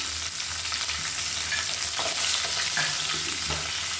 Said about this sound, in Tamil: இப்போ பாருங்கள் எல்லாமே நல்லா பொரிய ஆரம்பிக்குது, ரொம்ப கருக விட்டுறக்கூடாது